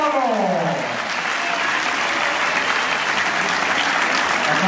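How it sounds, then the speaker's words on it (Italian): A crowd applauds cyclists at an award ceremony during a Madison track cycling event in Fiorenzuola, producing dense, sustained clapping that holds steady and full throughout with no pauses. "Gli applausi sono per Matteo Doregà e Stefano Moro."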